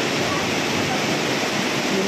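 Fast-flowing mountain river water at Yamunotri rushes in a dense, steady roar, loud and close with no break.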